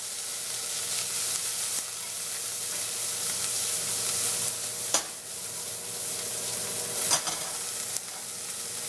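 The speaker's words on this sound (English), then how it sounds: "we're gonna throw our Brussels sprouts in there, get them really nice and coated" Brussels sprouts sizzle in browned butter in a pan, a continuous close frying hiss with occasional sharp clatters as they are tossed and stirred, no voices.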